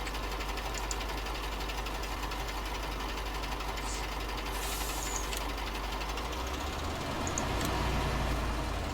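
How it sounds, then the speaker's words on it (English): A farm tractor engine running steadily nearby during oat loading at a cattle farm, a continuous rhythmic knocking chug that lowers in pitch and swells slightly near the end. "We will stop that tractor there."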